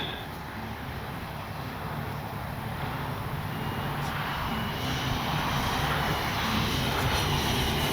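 A steady engine roar of an E-flite 90mm Viper RC jet plane in flight drones continuously, fairly loud and even, gradually swelling slightly toward the end.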